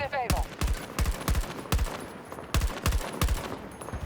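Rapid bursts of gunfire in the video game Battlefield 2042, a string of sharp repeated shots in clusters with short gaps, loud and busy over a rumbling game background.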